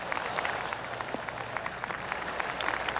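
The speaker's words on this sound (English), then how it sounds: "Oh, I can hear the golf claps around the course." Golf spectators applauding around the course in the PGA 2K25 video game, a brief burst of scattered polite clapping from a crowd at a distance, steady and moderate in volume.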